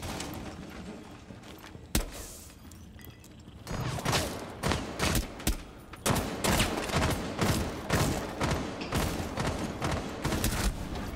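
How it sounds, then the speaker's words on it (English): Several players fire guns at once in a shooter video game, starting with a single sharp shot and then dense rapid bursts of gunfire that keep hammering away, loud and close. "Three people shooting at me."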